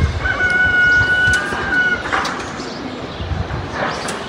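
Fowl calling inside a coop, a clear drawn-out crowing call followed by scattered clucks and coos over rustling, fairly close with no talking.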